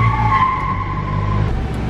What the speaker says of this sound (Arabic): تشحط السيارة شنو؟